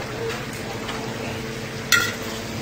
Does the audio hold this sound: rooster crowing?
no